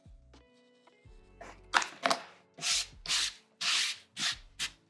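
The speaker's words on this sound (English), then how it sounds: "for this part, this long edge, I'm just going to trim down that seam allowance a bit more." Scissors trim a fabric seam allowance on a sewn coffee press cozy, giving a series of about six short, close crisp snips and rasping cuts, each separated by a brief pause.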